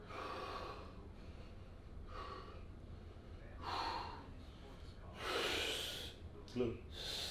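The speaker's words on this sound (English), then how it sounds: "Slow down just a tad and start breathing." A bodybuilder breathes heavily during a posing routine: several loud, close, forceful breaths and snorting exhales in an uneven rhythm, with short quieter gaps between them.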